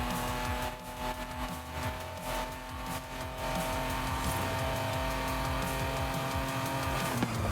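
An AMG car driven in the racing game Forza Horizon 5, its engine droning steadily throughout with a brief tire squeal and shifting revs, sitting under a busy mix of game sound.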